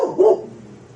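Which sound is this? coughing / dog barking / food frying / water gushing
dog barking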